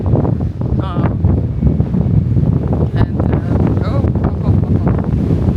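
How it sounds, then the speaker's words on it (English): Loud wind buffets the microphone in a constant roar off the city of Mindelo, Cabo Verde, with faint voices breaking through now and then. "it is windy"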